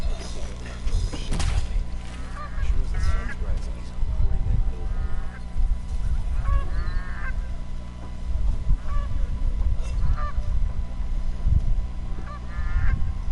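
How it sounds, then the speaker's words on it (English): Geese honk repeatedly in the video game Horizon Zero Dawn, short nasal calls spaced every couple of seconds over a constant low ambient hum, fairly loud and near. "Did that fucking goose just ignore what I shot at it and proceed to walk"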